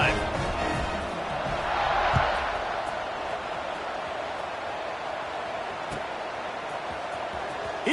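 A football stadium crowd roars with steady, broad cheering after a scoring drive as the kickoff unit takes the field, a dense wall of noise swelling briefly near the two-second mark.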